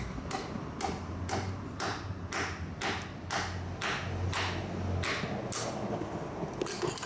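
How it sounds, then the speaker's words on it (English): A rubber hammer gently taps a brake caliper piston during a Yamaha Banshee brake rebuild. Roughly a dozen short, sharp knocks come at a fairly even rhythm, close and distinct over a low background hum. "I will be tapping with the rubber hammer gently."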